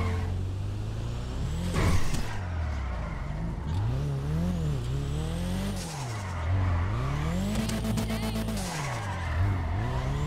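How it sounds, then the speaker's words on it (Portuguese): Car drifting through Los Santos streets in GTA 5, with a rising and falling engine drone, repeated revving and long tire squeals and skids, loud and continuous throughout. "Drift aqui é a minha zona"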